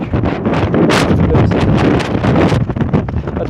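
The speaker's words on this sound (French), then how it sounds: "C'est un vent démonstratif, c'est un vent très affectif, hein, il est très au contact." Strong gusty wind buffeting the microphone outdoors, loud roaring rumble with bursts of rustling hiss that rise and fall in waves, no voices.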